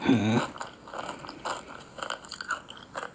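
Crunchy bites and chewing of fried chicken, a series of short crisp crunches repeating roughly every half second, close up and fairly quiet, with a brief voice at the start.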